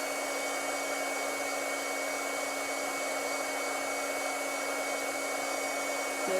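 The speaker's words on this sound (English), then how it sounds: "The magic of heat embossing." An electric heat tool blows hot air onto a stamped card for heat embossing, giving a steady, close, even whirring hum with a constant tone, running alone without talk.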